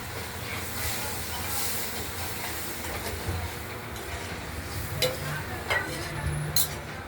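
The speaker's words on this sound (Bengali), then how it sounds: "আমি একটু জল দিই জল দিলে মশলাটা কষানো ভালো থাকে" Spice paste of cumin, chili and ginger, loosened with a little water, fries and is stirred in a pan for a potato and cauliflower curry, giving a soft sizzle with scraping stirs and a few sharper clinks.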